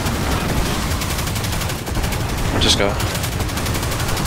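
Rapid gunfire in Destiny 2 as players shoot at the Caretaker boss in the Vow of the Disciple raid, a dense steady barrage of shots running throughout with voices talking over it.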